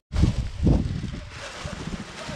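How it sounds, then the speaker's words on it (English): Wind gusts buffet a microphone outdoors during spray painting of a twin-turbo LS1 wide-body Skyline race car's engine bay, two strong low rumbling bursts followed by lighter steady blowing noise. "It's a bit windier than I'd like."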